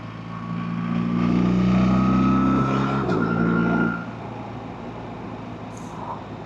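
A BMW R1300RT motorcycle carrying a rider and pillion on twisty roads, its engine droning loudly for a few seconds then easing off as speed drops, with wind rush continuing beneath.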